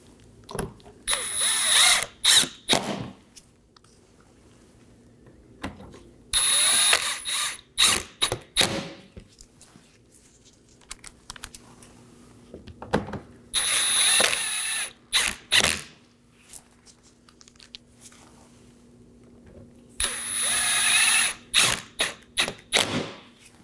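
Six 7mm bolts under a Chevrolet Equinox bumper are snugged down with a powered ratchet, which buzzes in several whirring bursts. Clicks and tool handling fill the pauses between bursts, and no one speaks.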